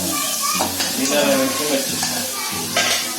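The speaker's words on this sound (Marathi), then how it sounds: "कांदा, टोमॅटो हे तेलात थोडं परतून घ्यायचं" Onion and tomato frying in oil in a Konkani home kitchen, a continuous close sizzle with scraping stirs at intervals and faint voices in the background.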